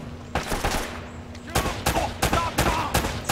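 Rapid bursts of gunfire from the video game Uncharted: Drake's Fortune, several sharp volleys in quick succession, loud and close, with a voice talking briefly between them.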